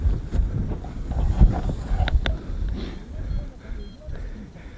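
Strong gusty wind buffets an outdoor microphone at a flying site, a steady low rumble that swells and eases through the whole span, with a person speaking briefly over it.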